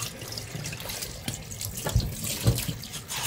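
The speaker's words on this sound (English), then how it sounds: "So you just rinse it off like that." A fresh catfish is rinsed under a running kitchen tap, a steady rushing hiss of water with splashes and a few louder thumps as the fish is handled in the sink.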